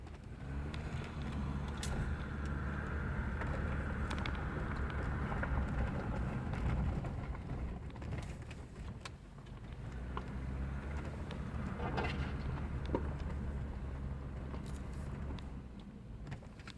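A Jeep Rubicon's 3.0 diesel engine drones steadily with low rumble as it drives over a rough Oregon forest road, with occasional rattles and bumps throughout.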